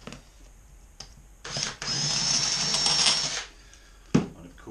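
A smaller cordless drill runs in one steady burst of about two seconds, loud and close, with quieter handling clatter and a sharp knock around it, during work on shortening a motorcycle exhaust.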